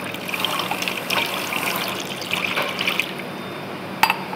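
Lukewarm water is poured and lightly stirred into pani puri water at a home kitchen, giving a soft, close trickle and sloshing for a few seconds, ending with a small clink.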